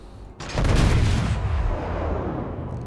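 Heavy battleship guns fire in World of Warships, a loud booming salvo that erupts after a brief quieter moment and rolls on with sustained rumbling gunfire to the end, with no voices.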